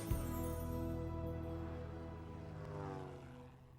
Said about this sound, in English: such as Mellon's Super Swift, one flight in this miniature fighter will hook you